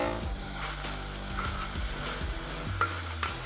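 Mixed vegetables frying in a pan with turmeric powder for pulao give a steady close sizzle with occasional scraping stir strokes and light clicks, and no voices.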